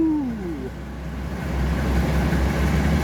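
Vintage British Rail diesel locomotives D1015 and D821 pull away on the Mid Hants Railway in Hampshire, with a deep, steady engine rumble that swells louder. A brief falling tone comes at the start. No voices are heard.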